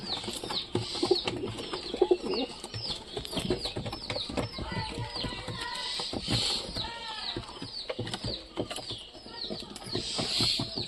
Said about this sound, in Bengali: ভুট্টা কেউ খাইতে পারছে না খালি দুই একটা কবুতর খাচ্ছে